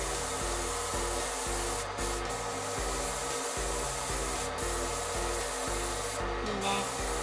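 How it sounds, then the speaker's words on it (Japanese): An airbrush sprays paint over a model kit, driven by a quiet compressor. A steady, soft broadband hiss runs throughout over a low, rhythmic pulsing hum, with a few brief sharper bursts of spray. "なんか塗料が多いとこういうカリカリカリみたいな音がするんですけど"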